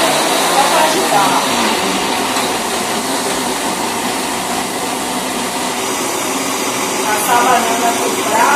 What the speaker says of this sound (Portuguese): Vou colocar a banana aqui, ó, no liquidificador para passar.